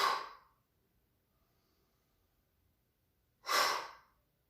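Two deep, close breaths mark the end of a warm-up. Each is a breathy rush of air followed by a stretch of near silence.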